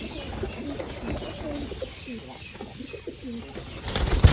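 Several pigeons coo outside a pigeon house in a soft, repeated rhythmic warble at close range, with some rustling and a brief flutter of wings near the end.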